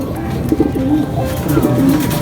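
Pigeons coo softly nearby, several low throaty rolling calls repeating over a quiet background hum.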